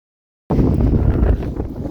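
Strong wind, blowing around 20 knots, buffets the microphone aboard a sailboat, starting abruptly after a half second of silence and roaring steadily and loudly for the rest of the clip.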